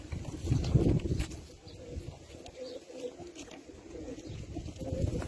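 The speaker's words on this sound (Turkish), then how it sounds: "Görüyorsunuz arkadaşlar kuşlarımızı" Tumbler pigeons coo softly and repeatedly in a low, rolling rhythm, close by outdoors, alongside light rustling and a faint tap or two, with no talking.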